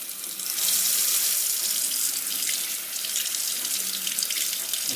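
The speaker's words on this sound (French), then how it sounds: "je vais tout simplement remplir, donc délayer mon fond de veau avec de l'eau chaude." Hot water pours steadily from a tap to dilute veal stock, a continuous close rushing hiss that holds strong for several seconds with no talking.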